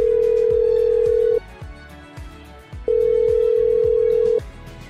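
A telephone rings in a Malay drama made in Habbo, sounding two long steady electronic ring tones separated by a pause, with a low rhythmic background underneath.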